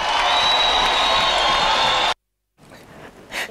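Political rally crowd in Kenya clapping and cheering loudly and continuously for about two seconds, then cutting abruptly to near silence, followed by faint murmurs.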